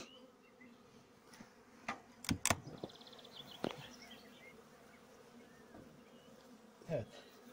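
Honeybees buzz around an opened hive during honey harvesting, a faint, steady drone broken by a few louder close passes and some knocks and handling noises.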